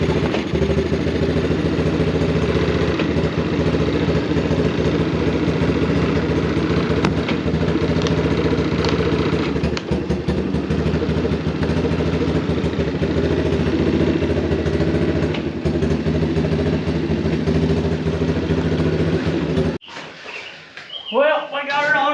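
A Honda Fourtrax 200 ATV idles with a steady, rough low engine drone for most of the stretch, then cuts off near the end as quieter sounds take over.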